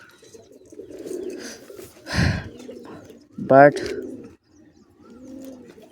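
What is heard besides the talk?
pigeons cooing in a pigeon coop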